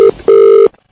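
Telephone ringback tone on an outgoing call: a short beep followed by a longer steady tone, loud and clean, then silence.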